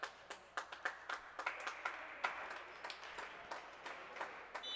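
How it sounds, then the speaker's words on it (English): Spectators in a high school gym applaud an injured varsity boys' basketball player, a faint, ongoing patter of scattered claps echoing in the room. "Everybody give him a little round of applause there"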